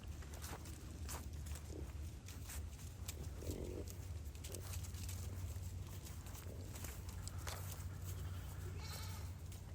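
Goats bleating in an open pasture, several short calls scattered over steady low rumbling wind or background noise, moderately distant and faint.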